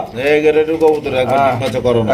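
A male pigeon coos in repeated throaty rolling phrases at close range, with people talking over and around the calls.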